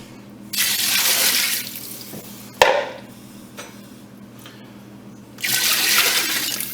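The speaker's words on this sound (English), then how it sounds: "Again, drawn up finest H2O from the tap." Tap water gushes into a stock pot holding roasted chicken bones in a kitchen, running loud and close in two bursts separated by a quieter stretch with a knock and a clatter.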